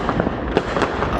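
Neighborhood fireworks on the Fourth of July crackle and pop continuously, with several sharper bursts over a dense, distant-sounding rumble.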